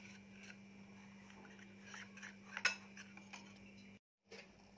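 A spoon scrapes and rubs against a pan while stirring a milk custard mixture, faint and close, with soft irregular strokes and one sharper clink midway, under a steady low hum.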